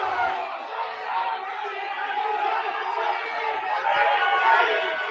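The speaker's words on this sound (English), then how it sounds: "And the crowd is losing it." A crowd at a rugby grand final night match, a dense steady roar of cheering and chatter that swells slightly near the end, with a commentator's voice mixed in.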